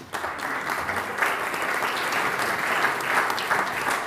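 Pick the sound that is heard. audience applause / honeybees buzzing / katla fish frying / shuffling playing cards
audience applause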